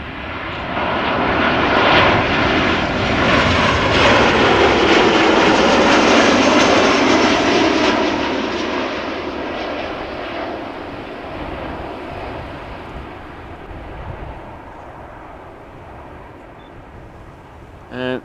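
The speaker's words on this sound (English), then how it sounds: "737-800 arriving from Naples in Italia." A 21-year-old Boeing 737-800 arriving from Naples comes in to land at Amsterdam Schiphol, its broad jet roar building loud and close over several seconds, then slowly fading toward touchdown.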